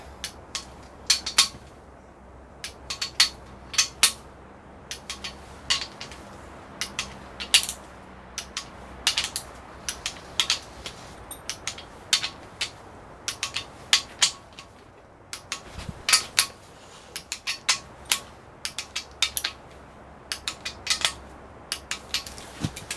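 A socket wrench clicks and ratchets in repeated sharp bursts while torque is checked on large main stud nuts of a GM 6.5 diesel crank, close and fairly quiet, with short pauses between pulls.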